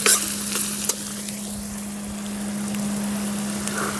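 Fish curry is stirred in a pan over a steady, soft sizzle, with a few scrapes near the start and a constant low electrical hum underneath.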